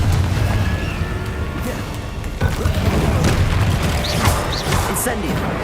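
Blasting Confringo spell going off in a Hogwarts Legacy battle: dense, busy combat noise with repeated booming bursts and crashing impacts filling the whole stretch, loud and continuous with little pause.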